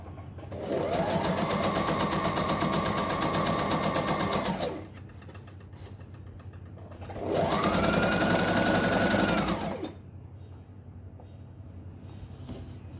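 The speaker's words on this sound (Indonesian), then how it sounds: "Turunin sepatu ya, kita jahit pelan-pelan." A sewing machine stitching a men's koko shirt in two loud, close runs of steady whirring, each about four and three seconds long, separated and followed by quiet low background hum.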